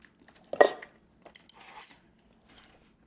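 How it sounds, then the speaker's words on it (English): A Jello shot bitten and eaten close to the ear gives a soft wet squelch, then quieter squishy chewing and smacking sounds, faint and intermittent. "I'm going to try a big bite of it."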